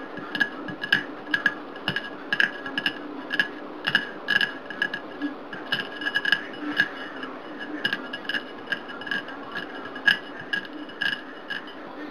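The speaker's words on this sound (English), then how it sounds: "Medyo kakrak lang natin yung shell" Hard-boiled egg shells being cracked for marbled tea eggs, a long series of sharp, light taps and clinks in an irregular rhythm, close and clear with no talk.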